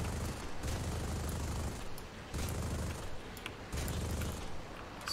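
Bursts of F4 Phantom cannon fire rattle in War Thunder aerial combat, three dense rapid-fire volleys over a steady roar of jet engine noise.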